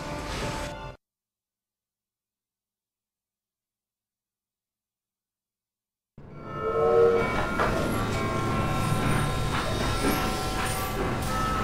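A locomotive train in a video game, heard after a stretch of total silence as a loud, close rumbling run with a tonal horn or whistle and steady rolling clatter.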